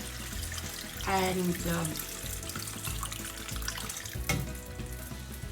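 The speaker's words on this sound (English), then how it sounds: "Now I'm adding in some water." Water is poured into a pot of meatball stew, a steady splashing flow under a speaking voice, with clinks of the pot.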